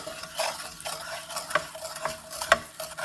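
Oil heats in a pan with turkey, giving a soft background sizzle under scraping stirs and a few light metallic clinks from a utensil, close up and with no talking.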